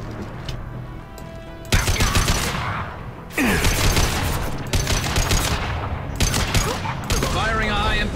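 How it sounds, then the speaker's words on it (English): Gunfire from a high impact gun in Mass Effect 2, heard as several loud, heavy bursts spaced a second or two apart over continuous game background noise. "Firing a high impact shot."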